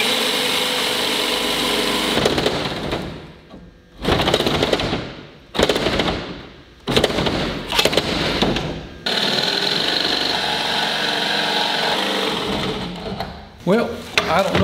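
A carbide-tipped saw blade cuts through a metal channel on an XP Camper flat bed in several loud, harsh bursts of buzzing chatter with short pauses between cuts.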